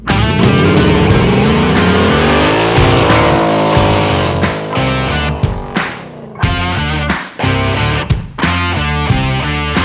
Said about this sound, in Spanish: Schmauk, muchas gracias por acompañarnos y queremos pedirte que te subas acá al Mustang Mach 1 y nos des tus impresiones.